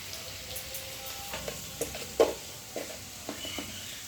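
Onions fry in a pan with salt, a low steady sizzle broken by occasional scrapes and clicks of a utensil, close and fairly quiet with no talking.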